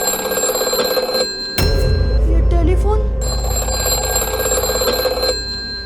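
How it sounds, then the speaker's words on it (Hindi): A telephone rings with a continuous bright electronic trill, joined partway through by louder bumps and a brief vocal sound before the steady ringing resumes. "ये टेलीफोन कैसे बज रहा"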